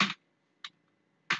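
Three short, crisp keystrokes on a computer keyboard while typing 'calculator' into Marg ERP software. They come close and distinct, spaced by brief silences.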